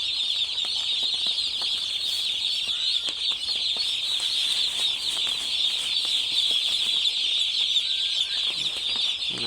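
A dense crowd of day-old chicks on a poultry farm cheeps steadily and shrilly without pause, close and fairly loud.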